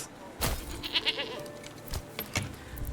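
Goats at a goat shed in the Manor Lords video game, several short bleats scattered over a quiet rural ambience, fairly close and moderately loud.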